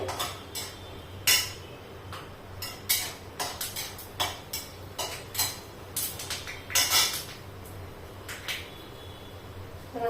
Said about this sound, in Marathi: आता हे जे शेंगदाणे आहेत ते आपल्याला भाजून घ्यायचे चांगले भाजून घ्यायचे